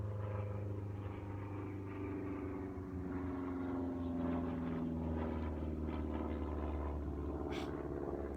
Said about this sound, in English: Here's a plane going over.